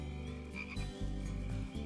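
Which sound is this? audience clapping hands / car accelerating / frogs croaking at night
frogs croaking at night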